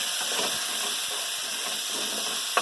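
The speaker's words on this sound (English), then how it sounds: "All that nice browning action going there" Beef browning in a pot for beef stew, a steady close sizzle and hiss with faint crackles and a brief sharp pop at the end, no voices.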